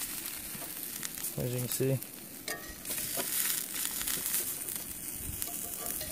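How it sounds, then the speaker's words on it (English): A folded pizza with sauce, cheese and pepperoni sears in a pan at a camp stop on a Utah overland trail, giving a steady close sizzle with a few crackles while someone talks briefly. "And then I like to sear the edge right along there."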